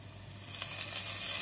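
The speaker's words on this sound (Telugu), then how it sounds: "నేను ప్యాన్ పెట్టుకుని ఇందులో ఏం ఆయిల్ పోస్తున్నాను అంటే వేరుశనగ అయితే పోస్తున్నానండి" Peanut oil poured into a hot pan, giving a brief steady sizzle and hiss that rises slightly, close, with no talking.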